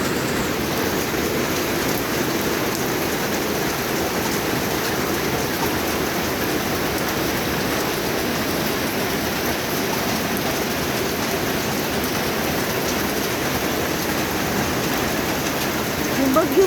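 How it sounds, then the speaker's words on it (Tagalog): Heavy rain pours down at a moto camping and glamping site during a storm, a loud, unbroken rushing hiss that stays constant for the whole stretch, close and enveloping. "Lakas ng ulan."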